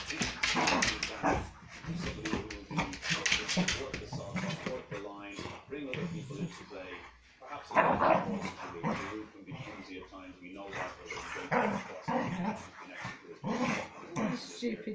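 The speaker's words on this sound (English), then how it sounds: "Stupid dog." A dog barks, whimpers and growls intermittently at home while a television football commentary about an Arsenal match plays continuously underneath.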